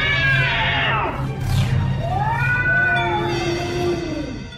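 Cat meows and drawn-out caterwauling wails as a horror story effect, several rising and falling cries in a row, loud and close with a low hum underneath, no talk.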